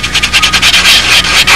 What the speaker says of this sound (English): And this sands so easily, you almost don't have to sand it.